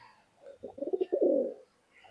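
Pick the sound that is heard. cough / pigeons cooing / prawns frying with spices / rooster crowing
pigeons cooing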